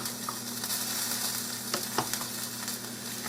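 A cheeseburger potato casserole mixture being stirred with a steady sizzle, a few soft spoon clicks and scrapes rising over a constant low hum, with no talking.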